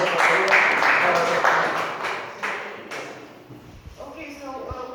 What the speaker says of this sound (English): I want to give applause also for Jalila